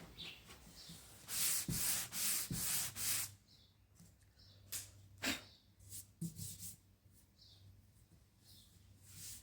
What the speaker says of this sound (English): now I'll just go over it with a fine grit to smooth it off